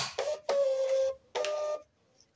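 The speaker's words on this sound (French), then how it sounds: "Je regrette vraiment pas d'avoir investi dans cette imprimante." A home inkjet-style printer working in bursts: three mechanical passes with a steady whirring tone, the middle one longest, separated by brief pauses, fairly close and alone.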